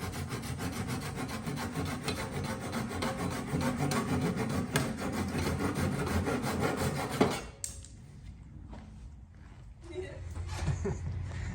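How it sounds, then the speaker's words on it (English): Wooden corner spline pieces on an exotic wood serving tray are sanded flush, a steady continuous rubbing rasp for about seven seconds that then cuts off, leaving quieter scattered scuffs and handling noises. "then I'll just sand around those"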